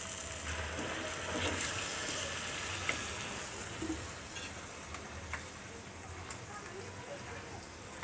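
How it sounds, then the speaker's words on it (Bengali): Boiled peas being stir-fried with spices in a pan, a steady close sizzle with scraping stirs throughout, a few sharp clinks of the spoon against the pan. "এখন আমি মটরশুঁটিগুলোকে মশলার সাথে ভালো করে কষায় নেবো"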